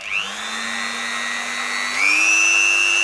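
A Dremel 4000 rotary tool spins up with a high, steady motor whine, then steps up to a higher speed partway through, running close and alone.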